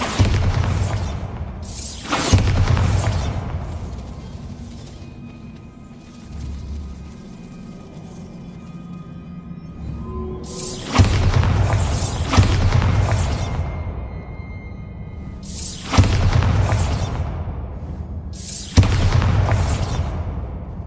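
Bombarda blasting spell explosions from Hogwarts Legacy: a series of loud, close booms with shattering debris, arriving in irregular bursts with quieter rumbling gaps between them.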